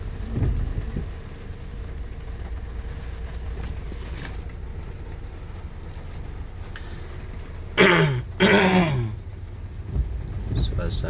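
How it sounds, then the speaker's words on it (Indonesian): Heavy rain pours down outside a shop front at a wet and dry market in Indonesia, a dense, steady hiss throughout, with a brief louder burst of nearby sound partway through. "Sana masih hujan deras, di luaran masih hujan deras."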